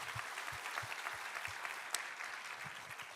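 A church congregation applauding together at a Sunday service, a steady dense wash of many hands clapping throughout, moderately distant, with a few rhythmic clap beats standing out.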